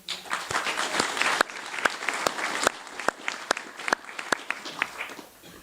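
An audience applauds at a university graduation ceremony, starting as dense, lively clapping and thinning out to a few scattered, distinct claps as it fades.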